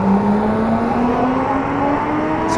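A Suzuki M109R 1800cc cruiser motorcycle engine, loud and close, with a steady deep rumble and a slowly rising pitch, heard on its own without talk.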